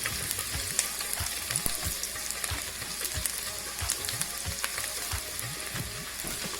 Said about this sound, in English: So now I'm adding finely chopped garlic,